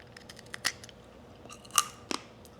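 Crisp crunches from someone biting into crunchy dehydrated food, a few sharp bites spaced apart, very close to the microphone in a quiet room.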